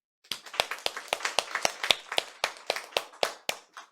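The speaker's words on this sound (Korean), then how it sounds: "자, 다 같이 박수." Church congregation clapping together at an anniversary thanksgiving service, a short run of sharp, distinct hand claps in a loose group rhythm, crisp and close with quiet gaps, tapering off at the end.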